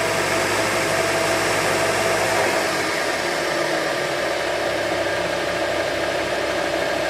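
A Rikon variable-speed 1x30 belt sander runs steadily up close, a continuous motor whir with belt hiss, its pitch shifting slightly a few seconds in as the speed changes, with no talking.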